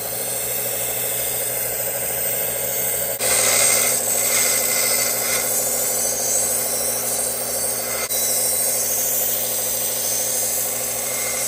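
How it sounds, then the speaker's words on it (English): A file rasps along a knife blade's edge to sharpen it, a steady loud scraping that continues throughout, close up, with a brief pause midway. "Now I'll work on the actual edge just a little bit, and I'll get that a little bit keener, a little bit sharper."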